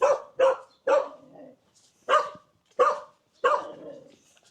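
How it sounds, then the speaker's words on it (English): Dogs bark in a Vietnamese village, six sharp loud barks in two bursts of three, fairly close, with short yips and whimpers trailing between them and no talking. "The dogs live in this strange area between barking aggressively but not biting"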